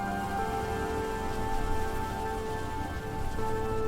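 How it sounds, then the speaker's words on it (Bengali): Heavy rain pours steadily through a forest, a dense continuous hiss of drops on leaves and ground with no letup, joined by a low sustained musical drone underneath. "একদিন বনে নামল ভারী বৃষ্টি।"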